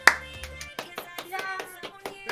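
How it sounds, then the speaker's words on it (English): A small group claps together for a couple of seconds, the quick uneven hand slaps close and fairly soft, starting with one sharper hit and trailing off into scattered claps. "Thank you for clapping for me."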